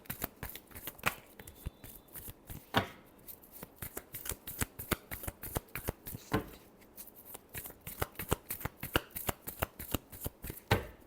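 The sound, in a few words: shuffling tarot cards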